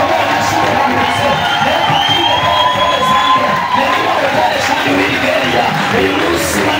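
A church congregation at a lively worship service claps and cheers together, a dense, loud, continuous roar of applause and shouts filling the room, with voices mixed in throughout.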